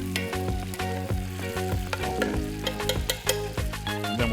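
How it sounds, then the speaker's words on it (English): A spoon stirs crushed tomato sauce in a cast iron pan over a wood fire, making rapid rhythmic scraping clicks over a bubbling sizzle, close and moderately loud, with no voices. "Take my spoon, stir it up nicely."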